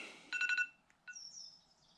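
Telephone ringing in a farm shop, a short burst of rapid electronic trill tones followed by a gliding chirp, faint and alone against quiet background.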